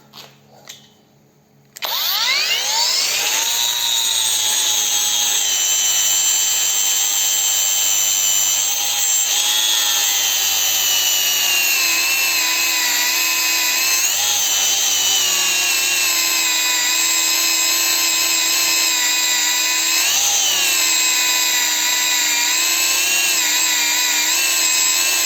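A cordless angle grinder powered by a TENPOWER 21700 cell battery pack whines steadily at high pitch after starting up, running continuously and loud with slight dips in speed under heavy load.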